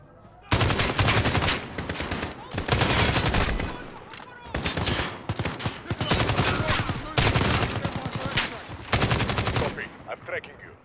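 Gunfire in Call of Duty: Modern Warfare: rapid automatic bursts rattle out loudly in several long volleys separated by brief pauses.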